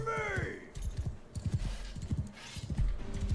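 Horse hooves clip-clop in the Mount & Blade II: Bannerlord video game, a quick irregular run of hoof thuds alongside game sounds and someone talking.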